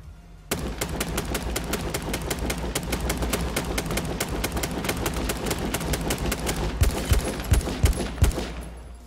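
Rapid automatic gunfire in the video game H1Z1, a long steady stream of evenly spaced shots starting abruptly and running nearly the whole time, loud and close, ending with a few heavier single reports.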